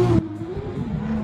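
Drift cars revving their engines on the start line of an ESDA competition, a loud sustained engine drone with a rising and falling pitch after a brief sharp onset, fairly close.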